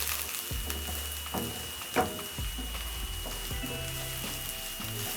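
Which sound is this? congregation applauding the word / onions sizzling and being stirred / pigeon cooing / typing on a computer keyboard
onions sizzling and being stirred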